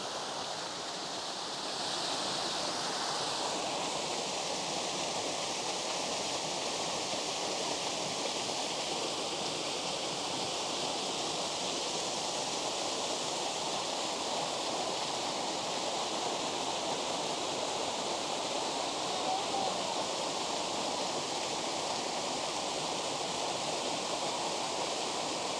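Red Rock Falls waterfall roars in a steady, loud broadband rush of falling water that fills the whole stretch without pause, with no voices over it.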